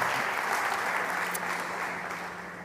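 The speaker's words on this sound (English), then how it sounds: "Big applause to Javier" Audience applause at a startup conference stage session, a steady dense wash of many hands clapping that fades slowly toward the end, with no voices over it.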